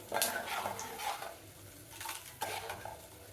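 Something fries in a pan while mango rice is cooked, with a faint sizzle broken by a few sharp clinks and scrapes of a utensil against the pan, close and fairly quiet.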